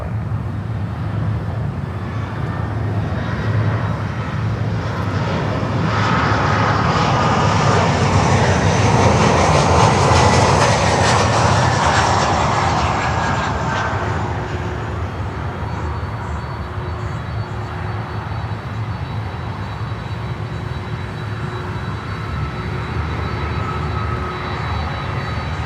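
Jet airliner bound for Liège, Belgium, flying past, a steady broadband roar that swells to a peak around the middle and then fades into a lingering distant rumble, with no talking.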